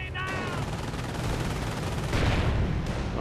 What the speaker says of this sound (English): More fake arty from the British player.